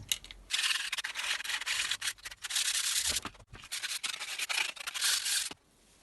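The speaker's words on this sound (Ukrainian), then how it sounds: "Зараз деталі потрібно зашліфувати шліфувальною бумагою" Wooden knife parts for a hook-bladed wooden knife are rubbed with sandpaper in close, loud, rapid back-and-forth strokes with brief pauses, ending in near quiet.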